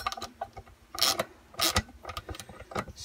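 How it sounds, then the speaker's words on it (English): A 17 mm socket wrench works a bolt on a Lambretta scooter engine mount, giving close, irregular ratcheting clicks and metallic clunks in short bursts. "I've got a 17 mil socket, and I'll have to hold it on the back with the"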